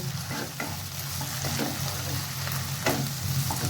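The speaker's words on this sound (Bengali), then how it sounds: "এরপর আমি পেঁয়াজের সঙ্গে ভালোভাবে কষে নেব" Ginger-garlic paste sizzles with browned onions in a hot pan for a chicken kosha, giving a continuous crackling fry with occasional scraping stirs, close and steady.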